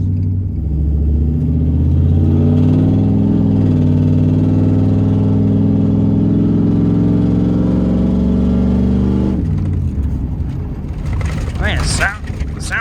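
An old junk truck's engine drones steadily and loudly with a deep, rich hum, then shifts abruptly in tone near the end as the driving changes, with some rattling and mechanical noise following.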